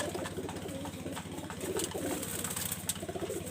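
Pigeons from a breeding loft coo in a steady, repeating low rhythm that runs throughout, close and moderately loud, over a light background hiss with no talking.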